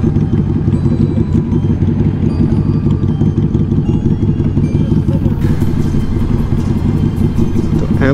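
Nearby, motorcycles on a Sunday group ride that includes a Yamaha R1M, an Indian Scout and a Harley-Davidson rumble with a steady, loud engine drone, some revving audible as they set off and someone talking over them.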